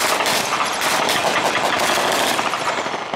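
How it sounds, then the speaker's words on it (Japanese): Military reconnaissance motorcycles roll into a training display at a Japan Ground Self-Defense Force camp anniversary event at Imazu, a loud dense roar of engines filling the air without a break, with no talking. "侵入してまいりますのは、第3偵察戦闘大隊偵察中隊の出撃用オートバイです。"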